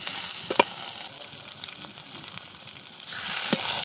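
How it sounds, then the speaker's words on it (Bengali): Stuffed brinjals fry lightly in a pan, a close steady sizzle of oil with a couple of sharp utensil clicks, no talking. "বেগুনগুলোর কিন্তু কড়া করে ভাজবো না, হালকা ভাজি করে"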